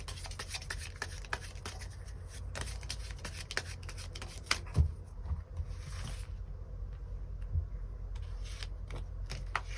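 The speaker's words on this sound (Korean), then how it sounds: "추가 카드 뽑아보도록 하겠습니다" Tarot cards are shuffled and drawn by hand in a steady, close rustle and slide of card stock over a low constant hum, with occasional soft taps and no talk.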